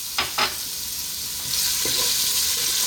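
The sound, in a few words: garlic sautéing in oil in a cooking pot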